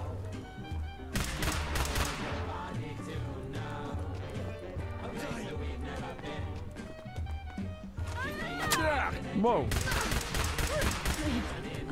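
A gun in the Fallout London video game fires in rapid bursts of sharp, dense shots that come in clusters and repeat over several seconds, with a man exclaiming briefly.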